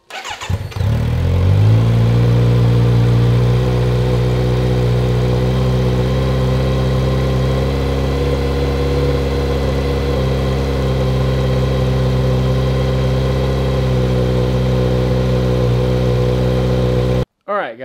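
Kawasaki Z900 motorcycle engine starting cold, then settling into a loud, steady, close idle with a deep rumble that continues unchanged for over fifteen seconds before cutting off.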